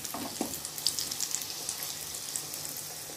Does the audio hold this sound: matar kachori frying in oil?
yes